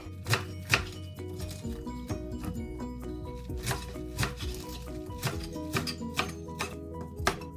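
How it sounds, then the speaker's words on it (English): Knife chopping vegetables on a board for low-carb Filipino-style stir-fried noodle pansit, a steady run of sharp, close taps with some louder strikes and a low background hum, no talking. "Now we're going to cut the last vegetables."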